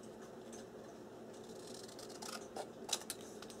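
Scissors cutting paper for a Graphic 45 Love Notes scrapbook journal, a few quiet close snips and rustles growing sharper toward the end, with no talking.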